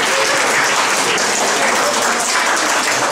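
A crowd at a primary-school chess tournament in Paraćin applauds the youngest competitor, a preschooler, with loud, dense, sustained clapping that fills the hall evenly throughout, no talking above it.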